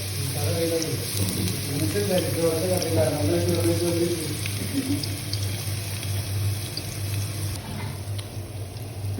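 Garlic hitting about 50 ml of hot olive oil in a pan, giving a loud, steady, broadband sizzle that fades slightly toward the end, with a brief low voice early on.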